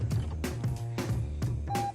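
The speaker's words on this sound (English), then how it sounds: "the only thing you'll hear is the chime sounds, no engine sounds" A 2024 Lexus LS500h hybrid sedan gives its start-up chime with no engine noise, a short series of soft electronic tones and clicks, with a brief clean beep near the end.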